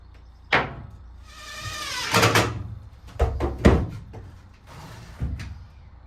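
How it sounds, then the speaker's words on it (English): Wooden boat bow doors are handled and knocked into place, with a scraping slide and several sharp thuds and clunks at close range. "let's get the doors back on"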